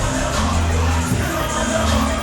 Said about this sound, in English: I haven't heard a crowd that loud in a long time, boy.